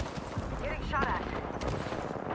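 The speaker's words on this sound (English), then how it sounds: "Getting shot at." Gunfire in the video game Apex Legends, a dense crackle of rapid shots running throughout under steady game noise, with a voice talking over it.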